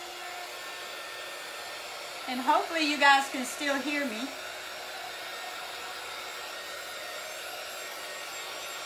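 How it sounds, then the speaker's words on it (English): A small hair dryer blows over decoupage paper on a craft table, a steady whooshing drone running the whole time while someone talks briefly over it. "I'm gonna hit this with my little dryer thing"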